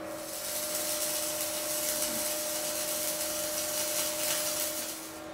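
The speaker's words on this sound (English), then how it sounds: "we select the manual metal arc welding process. We dial in our current required and we're ready to start welding" A Lincoln welder runs a manual metal arc weld, producing a steady, crackling hiss that holds for about five seconds at moderate level.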